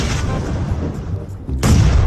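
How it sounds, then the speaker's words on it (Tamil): A bomb blast in a video game: dense booming, explosive rumble fills the clip, dipping briefly before a loud burst around the last half second. "ஆனா குண்டை தூக்கி போட்டுருக்கேன், போட்டு பிளாஸ்ட் ஆயிடுச்சு."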